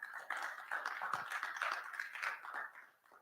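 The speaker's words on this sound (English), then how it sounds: "Clap it up for Kevin Thomas one time, y'all." An audience at a men's conference claps, a faint, steady patter of hands continuing for a few seconds before tapering off, with no talking over it.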